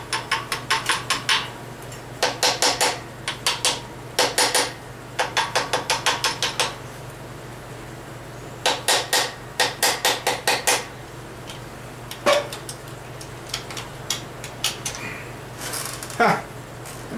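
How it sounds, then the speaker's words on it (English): A small brass hammer tapping the bearing caps of a Chevrolet Caprice engine, quick bursts of sharp metallic taps in rapid runs of five to eight strikes with short pauses between, close up over a low steady hum, with a few softer single knocks later. "That's where this little brass hammer buddy made me comes in handy."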